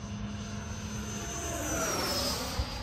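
Mirage 2000 80mm model jet making a high-speed pass, a loud continuous turbine whine that swells and shifts pitch as it sweeps by, without any talk.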